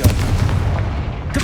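A Confringo fire curse blast goes off in Hogwarts Legacy, a short and loud burst of booming, crackling impact noise that fades quickly, with no talking.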